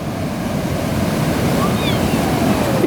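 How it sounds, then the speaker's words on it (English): A big ocean wave surges and breaks on a Silver Coast beach in Portugal, a loud, sustained wash of surf with wind buffeting the microphone throughout. "Here comes a big wave."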